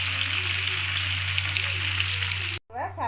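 Continuous hiss and crackle of vegetarian fish pieces frying in hot oil, steady for most of the time before cutting off abruptly, followed by a brief snatch of voice.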